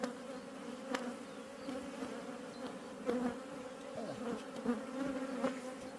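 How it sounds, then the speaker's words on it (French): A honeybee colony hums steadily inside a hive during a swarm-prevention check, a dense close buzz of many bees with occasional louder passes as individual bees fly near. "cette colonie ne veut pas essaimer pour l'instant"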